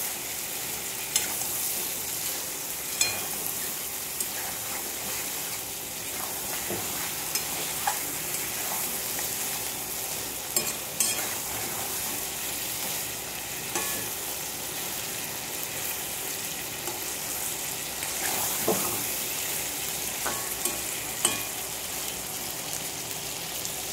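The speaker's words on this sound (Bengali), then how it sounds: "লবণটা দিয়ে আমি ভালোভাবে নাড়িয়ে নেব।" Chicken curry frying in a pan after salt goes in crackles with a constant sizzle while a spoon stirs and scrapes in irregular clinks and taps, close and continuous for a long stretch.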